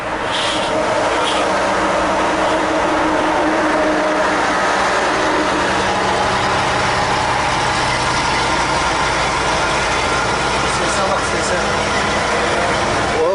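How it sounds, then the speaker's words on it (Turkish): A large truck's V8 engine runs continuously with a dense, heavy rumble and broadband roar, loud and close, while people talk faintly underneath. "V8 motor var orada Emin abi."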